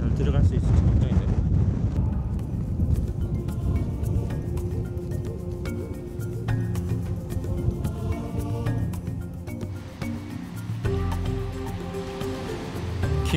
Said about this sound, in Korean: 바람이 너무 세게 불어요.